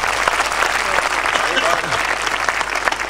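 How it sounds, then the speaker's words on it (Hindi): Applause for two poets at a Hindi poetry recital in Seawoods, dense continuous clapping from a seated crowd, loud and steady across the whole stretch. "मैं चाहता हूं दोनों रचनाकारों के लिए एक बार तालियां वालियां बजा दें।"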